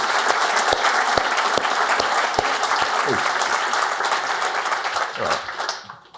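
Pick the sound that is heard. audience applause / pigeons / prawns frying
audience applause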